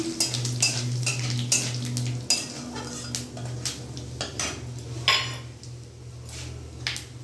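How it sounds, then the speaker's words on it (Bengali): Cumin seeds and whole dry garam masala tempering in hot oil in a pan, used as a base for a spicy fish curry. Close metallic clinks of utensils against the pan come in quick bursts over a low steady hum and a faint sizzle. "ওই তেলের মধ্যে এখানে ফোড়নে দিয়ে দেবো জিরে, শুকনো গোটা গরম মশলা আমি ফোড়ন দিয়ে দিলাম।"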